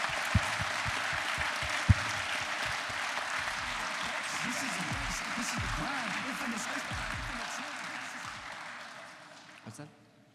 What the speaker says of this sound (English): Can we get a round of applause for Cromulins?